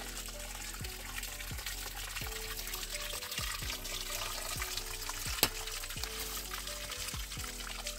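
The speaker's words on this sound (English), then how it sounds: "Nice little waterfall going on there again with some really nice looking gravel." A small waterfall pours over gravel in a creek just below a dam, a steady close rush and trickle with occasional splashy bursts throughout.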